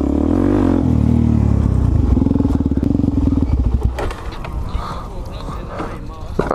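A supermoto motorcycle engine roars loud and close while drifting, rumbling steadily then breaking into rapid chattering pulses as revs rise and fall, before dropping to a rougher, lower idle-like note with a voice briefly heard.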